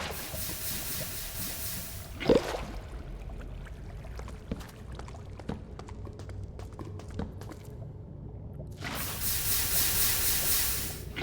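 A lava river in a mining video game gives off a steady, soft sizzle and hiss close by, with scattered small pops and crackles. A louder burst of frying noise rises near the end.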